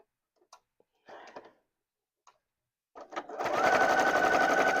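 A domestic sewing machine quilting a fabric cover for a stand mixer at 3.5 stitch length starts after a few soft taps and handling sounds, then runs in a loud, steady, rapid whirring stitch to the end.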